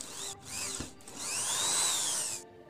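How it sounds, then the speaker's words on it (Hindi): A power drill bores holes in a plastic lid for a homemade water tank, two short whirring bursts followed by a longer rising and falling spin-up before stopping, close and fairly loud. "होल ड्रिल करेंगे।"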